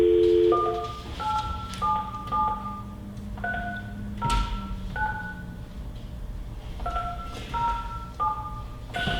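Touch-tone keypad beeps from a phone dialing an access code, a series of short paired tones in quick bursts with pauses between groups, over a low hum and faint background noise.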